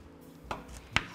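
Two distinct knife chops slice through tomato on a cutting board, close and crisp, about half a second apart against a quiet background.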